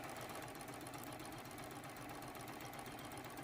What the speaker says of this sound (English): line up that raw edge, and sew top to bottom